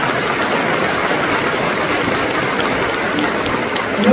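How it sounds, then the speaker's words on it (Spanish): Audience applause for state legislators at a public event on Oaxaca's social programs, a continuous loud roar of many hands clapping without a break. "Un fuerte aplauso a mis amigos diputados."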